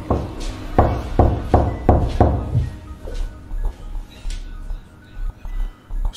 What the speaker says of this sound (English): Knocking.